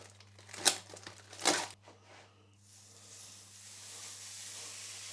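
Fatty minced beef, 20% fat, browning in a pan with no added oil, giving a steady soft sizzle and hiss that builds gradually, preceded by a couple of louder crinkling, rustling bursts near the start.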